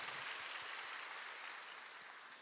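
A church congregation at a Sunday morning worship service claps together in a sustained, faint, distant round of applause that slowly fades, with no talking over it.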